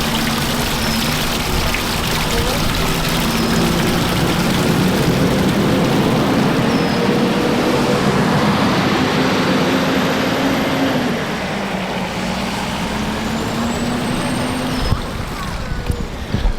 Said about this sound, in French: il y a un petit peu trop de circulation ici.